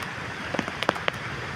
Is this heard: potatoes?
no